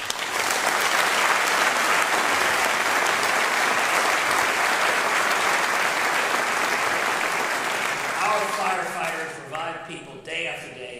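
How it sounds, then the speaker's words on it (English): Sustained applause from a crowd at a mayor's State of the City address, steady and loud for about eight seconds before tapering off as a voice begins speaking near the end. "let's give him a round of applause"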